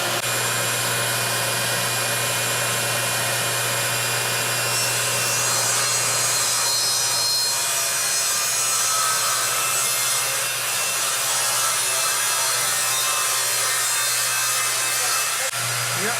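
Hand saw working through a wooden garage door panel, a steady continuous rasping stroke sound that runs close and fairly loud throughout, with a faint low hum underneath and no talk.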